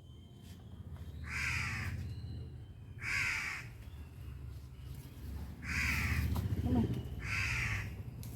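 Crow cawing in four loud, spaced bursts of harsh calls, each lasting about a second, over a steady low outdoor rumble.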